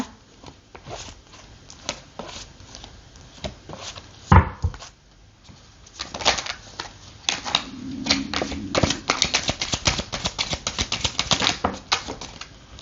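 Tarot cards are handled, shuffled and drawn in a reading for Leo, giving bursts of crisp close card flicks and slaps with brief pauses, then a fast run of shuffling.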